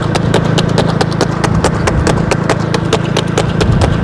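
A horse clip-clops at a Friday horse gathering in the Chhachh area, its hooves striking in a brisk, even rhythm, loud and close throughout.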